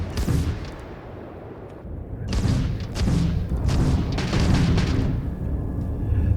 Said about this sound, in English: There's my new particle cannons.